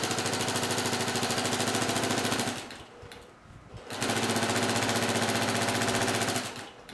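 Sewing machine doing free-motion quilting, a fast, steady mechanical chatter that stops briefly about midway and then restarts at the same rapid pace.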